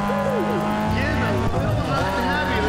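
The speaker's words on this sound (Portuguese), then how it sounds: "olha o barulho desse carro" Race car engine in Need for Speed ProStreet, a continuous loud whine rising and falling through gear shifts, heard under someone talking excitedly throughout.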